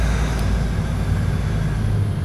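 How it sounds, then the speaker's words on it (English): Truck tires rubbing against the deck on an Irish ferry make a steady, deep rumbling drone that holds at an even level throughout, with no talking. "the tires rubbing off the ground. Nothing big, nothing bad or anything."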